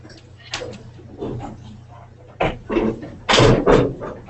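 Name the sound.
door being shut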